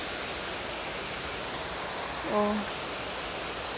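Strong water pours at a park waterfall in a steady, even hiss of rushing flow, moderately faint and unchanging, with a single short voiced exclamation midway.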